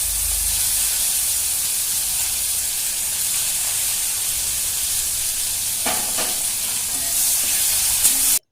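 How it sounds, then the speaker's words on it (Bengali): Onion sizzling in hot oil with bay leaves, dried chilli and cumin for a katla fish curry, a steady broadband frying hiss throughout with a few brief stirring scrapes near the end. "এরপর আমি পেঁয়াজটা এর মধ্যে অ্যাড করে দিলাম।"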